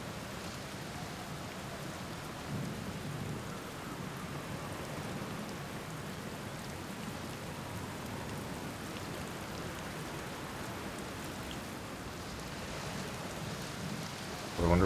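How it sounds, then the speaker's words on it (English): A steady thunderstorm in the video game Outer Wilds: dense hissing rain with low rolling rumbles running unbroken for about fifteen seconds, ending in a sudden louder burst. "The storm that I'm inside of right now."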